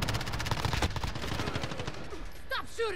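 Automatic gunfire in the Modern Warfare video game: a rapid, evenly spaced stream of shots rattles for about two seconds, followed by short whistling in-game sounds. No one talks.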